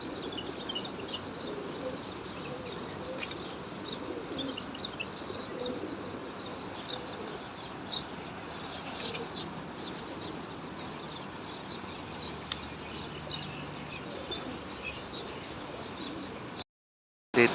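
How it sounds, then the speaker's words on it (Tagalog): Flocks of pigeons coo and flutter at a busy outdoor spot where people feed them, a steady low murmur of cooing under street noise and distant voices. "Dito pa yung mga kalapati."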